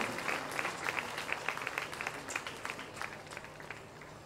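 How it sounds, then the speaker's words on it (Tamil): Applause from the congregation at an outdoor feast Mass at Our Lady of Glory Shrine in Pulicat, with steady, dense clapping throughout and no voices on top. "இந்த நாளிலே உதவிகரம் நீட்டிய எல்லாருக்குமே ஒரு பலத்த கைத்தட்டல் கொடுத்து நம்முடைய நெஞ்சாறு நன்றிகளை நாம் தெரிவித்துக் கொள்கிறோம்."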